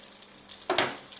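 Naan laid into a pan of hot olive oil over medium heat sizzles, a soft faint hiss that swells suddenly into a brief louder crackling burst and then fades back down.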